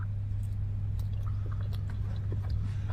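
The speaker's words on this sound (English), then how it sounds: "I can hear her mouth behind all the chewing. Like the slurping and the noises." Close, wet chewing and slurping from someone eating, soft smacking and squishy mouth noises over a constant low hum.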